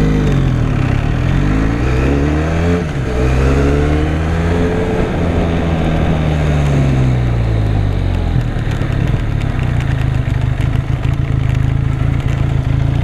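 Benelli Leoncino Trail 2018 motorcycle engine revving up and down in repeated rising and falling sweeps, then settling into a steady rough idle, loud and close with no talking.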